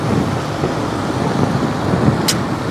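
Heavy rain pours down steadily on a rider caught without a raincoat during a motorbike ride, a dense continuous hiss mixed with road and traffic rumble and one brief sharper tick near the end.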